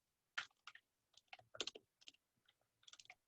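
Quick bursts of keystrokes on a computer keyboard, a few clustered clicks then short pauses, close and fairly quiet with no talking.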